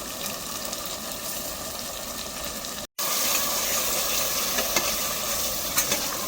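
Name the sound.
thick yogurt added to frying masala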